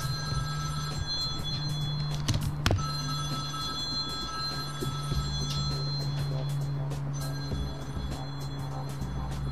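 A telephone rings in a public transport management simulation game, a continuous trilling bell that persists for several seconds over a busy background of game sounds.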